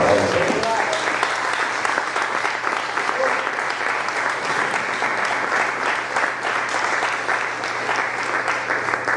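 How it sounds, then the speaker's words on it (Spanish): Sustained applause from a church congregation at a youth congress service, dense steady clapping filling the whole stretch with a low hum underneath and some crowd voices mixed in. "Denle un aplauso al Señor en esta mañana."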